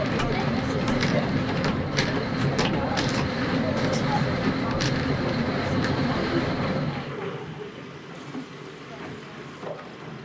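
An electric tram on the Isle of Man rumbles and clatters along the track in a steady rolling din, then quiets sharply as the ride winds down, with a voice talking over it.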